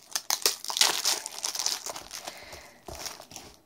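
Packaging on a tarot deck is torn open with bursts of loud, close crinkling and crackling plastic or paper, busy at first and easing into lighter rustles.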